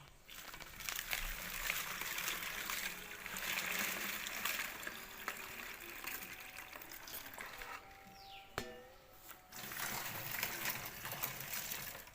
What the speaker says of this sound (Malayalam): വെള്ളം തിളപ്പിച്ച് വെച്ചാണ് ഇത് ഒഴിക്കട്ടെ കേട്ടോ